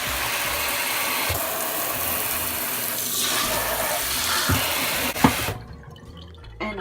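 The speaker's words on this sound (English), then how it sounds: "turn on the faucet" A kitchen sink faucet runs at high pressure, a continuous hissing rush of water with some clicky handling noises before the flow cuts off sharply near the end.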